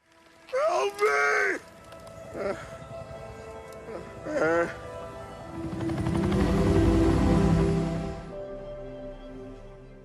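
A helicopter in flight overhead swells into a low, heavy rotor rumble that builds, peaks and fades, with shouting and voices heard before it.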